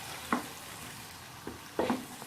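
Chickpeas hitting hot oil with red chili, cumin and salt, a faint low sizzle broken by a few short scraping stirs, one early and a cluster near the end.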